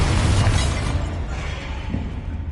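Bombarda spell blast in the Hogwarts Legacy video game, a loud booming explosion with a low rumbling burst that fades over a couple of seconds.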